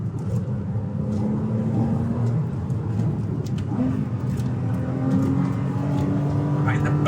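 A Porsche Cayman R's naturally aspirated engine drones steadily while the car is driven on a country road, its tone rising and falling with throttle changes, close and continuous with road and wind noise.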